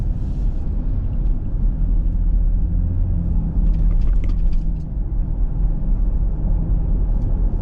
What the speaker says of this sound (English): as you can see, this traffic is very heavy this morning